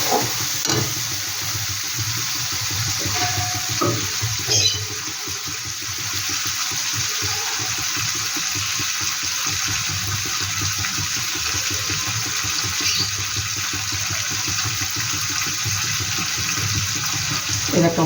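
Water pours into a pan of coconut chicken curry masala, a close, steady splashing rush that briefly swells and then settles into a continuous watery flow.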